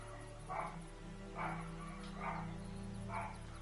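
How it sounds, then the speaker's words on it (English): Several dogs barking in a hunting video game, four short bark bursts spaced about a second apart over a steady background hum, moderately distant and faint. "I can hear all the dogs barking."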